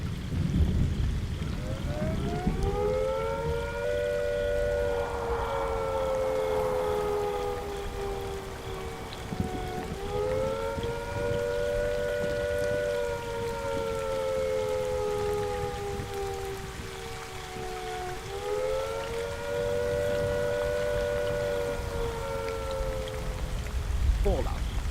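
Rain and thunder ambience from the game Fallout 4 rolls on as a steady wash of rainfall with deep rumbling, overlaid by a long, wavering tonal drone that rises and falls in slow swells.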